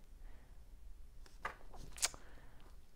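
Scissors snip through paper while a planner page is made, giving a few quick, faint cuts with a sharper crunch near the end over a quiet background.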